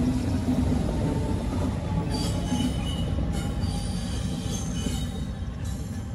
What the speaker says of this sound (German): Mit einem Zug, der vermutlich der Unkrautbekämpfung im